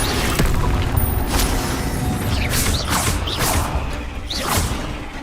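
Fiery Confringo spell blasts crackle and whoosh in Hogwarts Legacy, several sharp bursts landing over a few seconds with a mechanical, creaking texture, loud and close.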